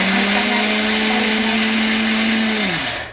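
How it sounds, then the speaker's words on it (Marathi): A kitchen mixer grinder grinds dosa batter with a loud, steady motor whir close by for about three seconds, then the tone drops as it winds down at the end. "मिक्सर चालू"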